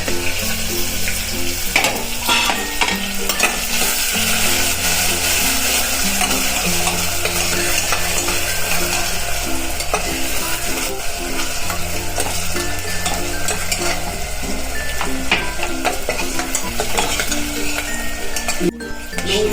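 Garlic sizzles steadily in hot oil in a pan, stirred throughout with repeated scraping and clinking of a utensil against the metal, loud and close for the whole stretch with no one talking.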